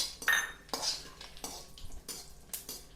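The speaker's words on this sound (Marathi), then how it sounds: "आता आपण इथे ही जायपत्री तळून घेणार आहोत।" Mace blades roasting in a pan for homemade black garam masala, a spoon scraping and tapping against the metal in irregular strokes, close and soft, with no voices.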